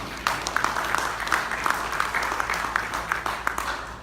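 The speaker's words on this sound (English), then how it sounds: "Shall we give them a round of applause?" A room full of people applauds steadily, dense clapping holding at an even level throughout.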